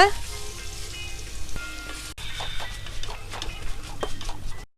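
Carrots, beans and cabbage stir-frying in a pan for chicken fried rice, a steady broadband sizzle with scattered clicks and scrapes of stirring, close and continuous throughout.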